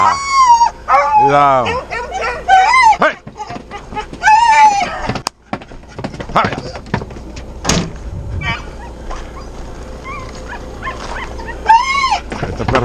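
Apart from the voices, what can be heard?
foxhound and beagle hunting dogs barking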